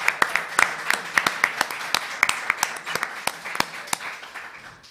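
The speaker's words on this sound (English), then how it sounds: "Can we just give the panel a loud round of applause?" Conference audience applauding a panel on web accessibility, a room of scattered, distinct claps with sharp individual hits at close-to-moderate distance, gradually thinning out.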